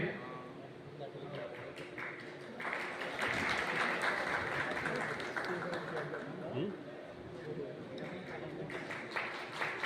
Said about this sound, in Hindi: ऊर्जा से ताली।